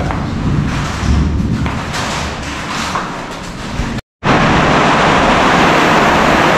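Heavy rain beats on a house in a broad continuous wash, with thuds and knocks early on, a sudden brief dropout, then the downpour returns louder and steadier.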